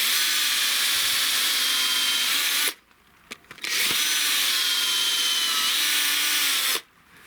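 A power saw cuts through oak wood in two long, loud, strained grinding passes, separated by brief pauses and a few soft clicks.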